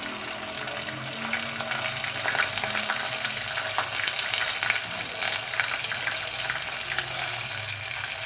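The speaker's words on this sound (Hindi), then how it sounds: "अब इसको मैं इतना ही रखने के बाद मैं इसमें लहसुन अदरक का पेस्ट डाल रही हूँ" Garlic ginger paste frying with golden brown onions in a pan, a steady close crackling sizzle with small irregular pops and stirring, heard alone without talk.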